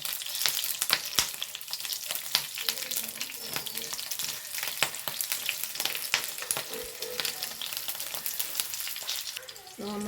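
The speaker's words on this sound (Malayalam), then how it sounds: "വെളിച്ചെണ്ണ ചൂടാക്കിന്ന് ഞാൻ മുളക് ഇതിലേക്ക് ഇട്ട് കൊടുക്കാനേ ഒന്ന് വാട്ടിയെടുക്കാം" Green chillies sizzle and crackle in hot coconut oil, a dense, continuous close-up frying hiss with scattered pops throughout.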